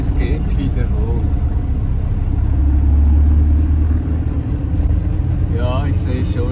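A 4x4 vehicle climbs a steep mountain track, its engine rumbling loud and close throughout, with a deeper surge in the middle, while a person talks over it.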